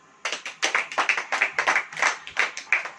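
A congregation at a church sermon claps in a quick, rhythmic pattern. Close, sharp hand claps come in short bursts for about three seconds.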